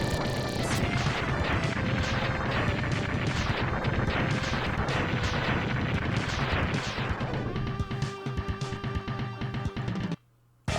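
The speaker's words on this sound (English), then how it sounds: "we're gonna blow up this missile before it can leave" Rapid series of blasts and crashing explosions as a missile is blown up in the 16-bit game Mega Man X2, dense and loud over game music for about eight seconds before settling, with a brief drop to near silence at the end.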